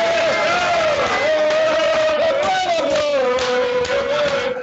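A crowd cheers and chants loudly and continuously over a phone line at Plymouth, with a strong sustained sung tone running through the whole stretch.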